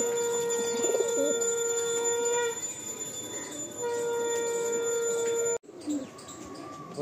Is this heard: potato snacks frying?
no